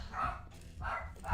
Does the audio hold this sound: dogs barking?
yes